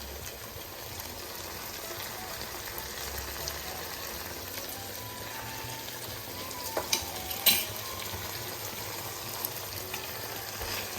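Pork and small vegetables frying in a pan with powdered satay seasoning, a continuous soft sizzle with scraping stirring strokes and a few louder clacks near the middle.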